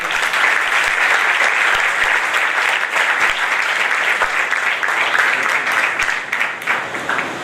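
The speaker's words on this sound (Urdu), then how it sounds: "ان ساروں کے لیے زوردار تالیاں" A church congregation at an Assemblies of God anniversary service in Karachi gives loud, sustained applause, a dense wash of many hands clapping close up that continues evenly for several seconds and then begins to thin out.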